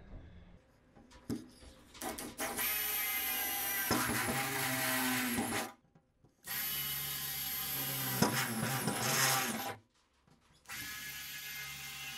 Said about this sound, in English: I'm going to drill 4 holes in the corners